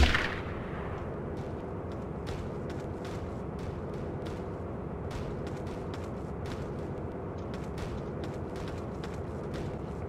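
Repeated gunshots from a .22 rifle in the video game Trespasser, a string of sharp cracks at uneven intervals over a constant low rumbling background, opening with a louder burst.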